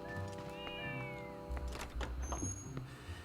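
A cat meowing in The Legend of Zelda: Twilight Princess, a few drawn-out tonal meows over a soft game music backdrop with rustling movement sounds, fairly close and clear.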